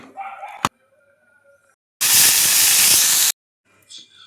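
A pressure cooker cooking millet rice lets out a single loud, steady hiss of whistling steam lasting over a second, cutting off sharply, with brief kitchen sounds before and after.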